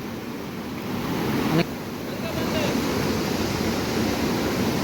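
Heavy rushing water from the swollen Pej river during a downpour, a steady broadband roar that holds unbroken throughout at close range.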